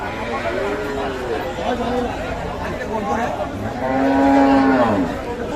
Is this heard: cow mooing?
yes